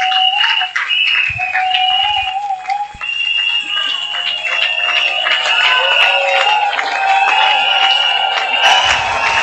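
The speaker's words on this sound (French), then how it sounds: "Pendant qu'il avance, on acclame très fort." A large crowd at a church gathering gives a standing ovation, cheering loudly with sustained shouts and high whoops rising and falling, continuous throughout with no pause.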